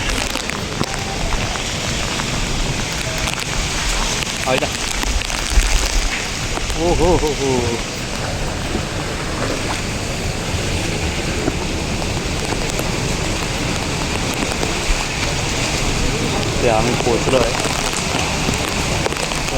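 Heavy rain pours steadily with gusting wind during a storm in Nalasopara, a dense hiss of drops on surfaces throughout while a voice calls out and speaks briefly over it.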